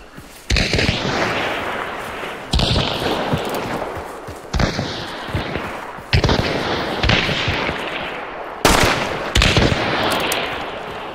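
Heavy video game gunfire in a shootout, several loud bursts of rapid shots and blasts repeating every couple of seconds over a dense, continuous din.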